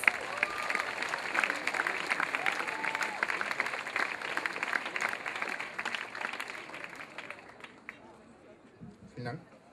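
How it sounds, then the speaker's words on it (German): Audience applause from a crowd at a German spoken-word stage show, a dense, sustained wash of clapping that carries on for several seconds before thinning out near the end. "Applaus."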